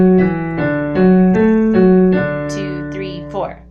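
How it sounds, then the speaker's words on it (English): A piano plays a D five-finger scale exercise with chords: a steady run of single notes stepping up and down, then sustained chords, close and clear with no talking. "so the whole thing sounds like this in D 5-finger scale"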